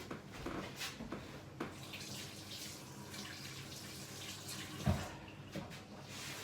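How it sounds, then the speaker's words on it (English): Hands are washed under a running kitchen sink tap, a steady splashing water stream close by with brief louder splashes and faint knocks as the hands move under the flow. "now wash my hands again"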